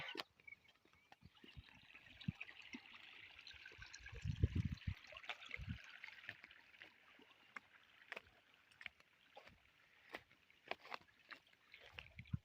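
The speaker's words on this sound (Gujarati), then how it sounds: "પાણી ચાલુ જ છે" Irrigation water runs steadily across a field with a soft, continuous rushing hiss, broken by occasional clicks and one low thump.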